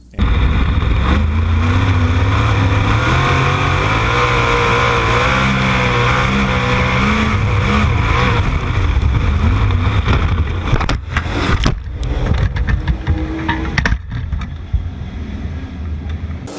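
Race cars on a short track roar past in a continuous loud engine drone with shifting pitch as they accelerate through the turns, followed by harsh bangs and crunching noise from a crash.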